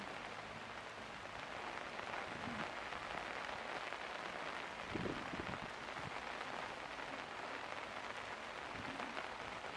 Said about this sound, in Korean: 이 비는 다소 좀 불편함은 주지만은 우리한테